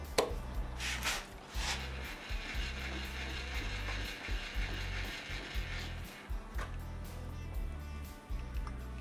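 A ratchet wrench clicks steadily while tightening a bracket in a garage workshop, a continuous close, fast mechanical clatter running the whole time with brief pauses between strokes.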